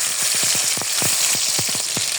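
Chilli frying in hot oil for a pangas fish head and malabar spinach curry, a loud, close, steady sizzle broken by quick crackling pops, with no voices.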